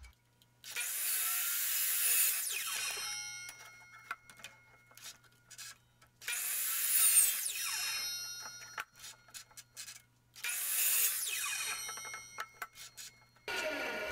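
A handsaw cuts flat faces around a wooden dome hub in three separate bursts of rapid rasping strokes, each lasting a few seconds with short pauses between, close and clear with a faint hum underneath.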